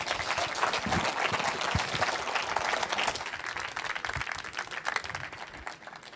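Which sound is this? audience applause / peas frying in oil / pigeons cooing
audience applause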